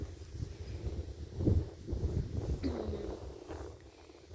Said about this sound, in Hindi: बिल्कुल अजीब सा हवा चल रहा है, वो रूखा रूखा सा होता है ना, वैसा चल रहा है।